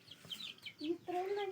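Rooster clucking at a home puja, a few short bird-like calls followed by two longer, louder tonal calls, close by in a quiet setting.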